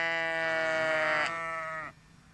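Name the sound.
sheep bleating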